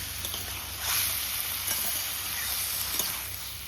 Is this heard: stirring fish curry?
yes